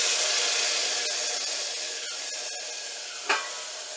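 Colocasia leaves go into a hot garlic-chili and turmeric tempering for Maharashtrian alu fatfata, a loud, steady frying hiss close by, with faint stirring scrapes and one sharp clack near the end.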